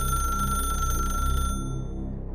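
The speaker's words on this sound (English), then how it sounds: "Then the phone rang a third time." An old rotary telephone rings with a shrill, rapid mechanical bell, a continuous buzzing trill that fills the room and then thins out as the ring winds down.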